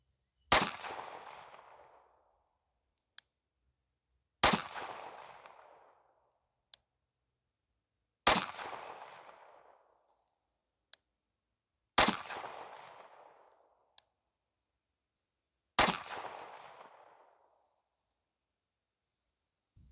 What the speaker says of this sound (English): We'll put 5 shots through the chrono, and the torsos that we're going to see down there are at 20 yards